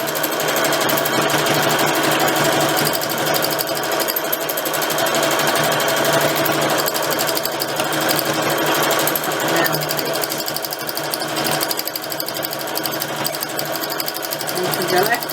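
A sewing machine doing free machine stitching runs steadily and loudly up close, its rapid needle chatter continuous throughout while a voice talks now and then.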